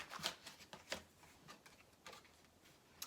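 Tarot cards shuffled and flicked by hand in a series of soft, quick papery riffles and snaps, close and quiet, with no talking.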